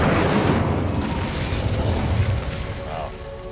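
A fire spell cast with the Incendio charm in Hogwarts Legacy gives a loud whooshing, crackling burst that holds steady, then fades slowly toward the end. A brief voice is heard underneath.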